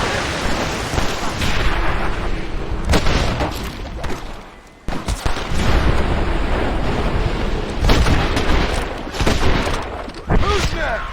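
Heavy Red Dead Redemption gunfight: loud volleys of shots and booming bursts rolling over each other, with a brief lull midway, alongside voices.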